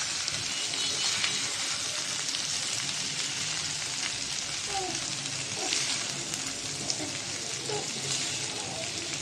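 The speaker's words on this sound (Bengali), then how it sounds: "একদম ভাজা ভাজা করে নিব উল্টিয়ে উল্টিয়ে।" Fish simmered in a spicy curry whose gravy has dried down sizzles and fries steadily in the pan as the pieces are turned over, a dense continuous crackle with faint scraping and stirring touches throughout.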